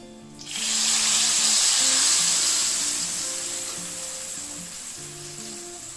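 Crushed tomato hits hot frying garlic in a pan for homemade tomato sauce, setting off a loud, steady sizzle that swells quickly after a short quiet start and then eases slightly while soft music plays underneath.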